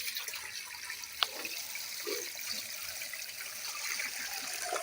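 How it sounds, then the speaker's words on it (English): Water poured into a pot for steaming mushrooms, a soft continuous trickle and splash running steadily throughout, close by, with no voices. "we are putting some water."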